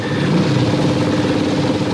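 A motorcycle engine runs steadily nearby, giving a loud, continuous low rumble with no clear revving.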